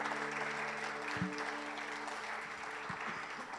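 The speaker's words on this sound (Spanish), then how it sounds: "queremos celebrar una vez más a todas las mamás con un fuerte aplauso" A church congregation gives applause for mothers on Mother's Day, a faint, steady, even wash of clapping heard from a distance with no clear speech over it.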